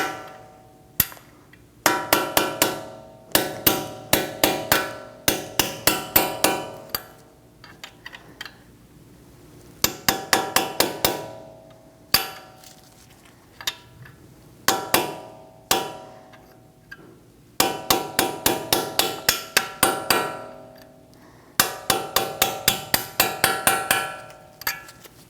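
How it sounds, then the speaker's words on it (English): A punch is struck with a hammer to tap out the brake caliper pins on a Cadillac ATS, sharp metallic blows landing in rapid bursts of several hits separated by short pauses, close and loud. "We're going to remove these two pins and this and the pads first. Use a punch"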